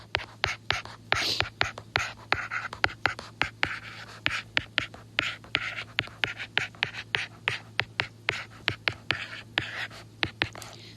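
Pen scratching on paper while a calculation is written out by hand, a close, regular series of short strokes and taps over a faint hum, with soft breathing.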